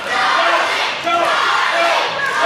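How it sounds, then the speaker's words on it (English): Crowd at an Emerge women's championship wrestling match between Charlie Kruel and Joseline Navarro, a loud, steady roar of cheering and chanting that fills the whole stretch without a break. "And listen to this Emerge crowd"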